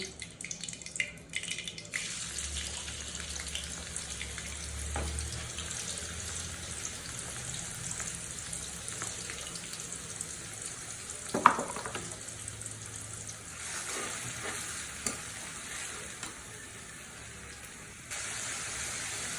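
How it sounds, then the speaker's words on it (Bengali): Onion paste frying in oil for an egg korma, a faint, steady sizzle and bubbling in the background with a few soft utensil taps, quiet and with no talking. "এখন এর সাথে আমি অ্যাড করে দিচ্ছি পেঁয়াজ বাটা।"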